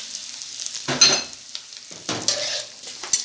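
Potatoes, papaya and peas frying and being stirred in a pan, with bursts of sizzling and scraping that come and go in short strokes, close and fairly loud, with no talking.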